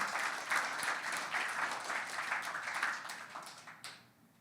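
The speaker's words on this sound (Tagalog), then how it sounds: "Can we give the Lord a clap offering of praise?" A church congregation gives a clap offering of praise, a steady wash of many hands clapping together at moderate distance that fades out near the end, with no talk over it.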